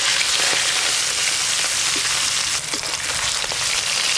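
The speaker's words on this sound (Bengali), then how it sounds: "এবার ইলিশ মাছগুলো হালকা করে ভেজে নেব।" Hilsa fish pieces frying lightly in hot oil, a loud, dense, even sizzle that carries on without a break.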